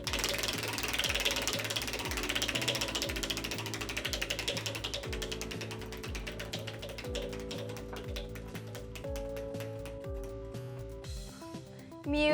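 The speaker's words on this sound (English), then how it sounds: "Toby, it's your turn to spin." Game show prize wheel spinning, a rapid stream of ratcheting clicks that gradually slow and spread apart over several seconds as the wheel winds down, with music underneath.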